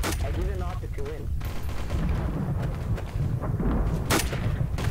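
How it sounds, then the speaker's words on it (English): Gunfire rings out in a Garry's Mod match, with a few sharp shot bursts amid loud game noise while a player talks over it. "Shot him once."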